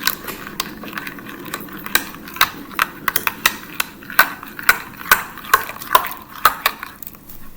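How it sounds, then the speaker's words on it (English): A spoon clinks repeatedly against a glass while stirring coffee, a steady series of sharp, bright ticks at close range with no talking. "Now with a spoon, you're gonna mix it gently with the"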